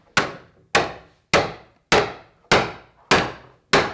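Sharp hammer blows strike wood to make a pilot hole for a nail, seven evenly spaced hits in steady rhythm. Each blow is loud and close and rings briefly before fading.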